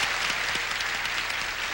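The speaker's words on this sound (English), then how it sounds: "Applause, applause, applause." A studio audience applauds contestants on the game show Match Game '79, a dense, even wash of clapping that holds steady from start to finish.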